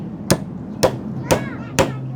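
Four evenly spaced hammer blows, sharp and close, about half a second apart, struck while building a house, with faint background noise between strikes.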